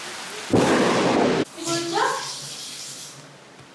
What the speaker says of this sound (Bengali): বাইরে মুষলধারে বৃষ্টি স্টার্ট হয়েছে